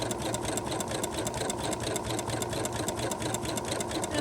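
Sewing machine running steadily in zigzag stitch over dental floss for ruffles, a fast even rattling hum throughout, fairly close and uninterrupted.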